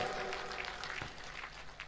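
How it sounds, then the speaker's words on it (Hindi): A rally crowd applauds Modi with dense, steady clapping that stays fairly faint and distant throughout. "तो मोदी जी को भी आज ताली बजा के बधाइयां दे दो भाई, जोरदार ताली बजा"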